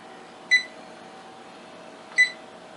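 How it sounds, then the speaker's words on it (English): A kitchen timer being set while soup cooks in broth, two short high electronic beeps about a second and a half apart over a faint steady hum, with no voices. "And we're going to set the timer"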